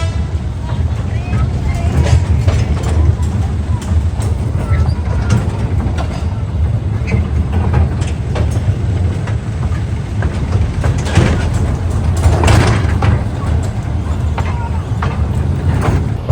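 Toy train ride at the National Rail Museum in Delhi, a steady rumbling roll with clattering and rattling across the whole stretch, loud and close, with people's voices mixed in.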